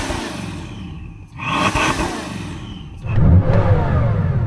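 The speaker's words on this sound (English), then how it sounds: "So I am going to rev up this engine." A 1,800 hp Lamborghini Huracan's engine revs hard and loud at close range, its note climbing in two surges and hitting a soft rev limiter, with mechanical whir and clatter between the bursts.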